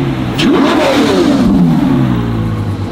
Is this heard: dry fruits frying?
no